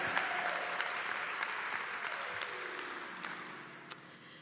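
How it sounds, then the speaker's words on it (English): A church congregation claps their hands together during a service, a steady dense patter of many hands filling the room, moderately loud and continuous, with a voice faintly heard over it. "Come on, clap your hands in this place."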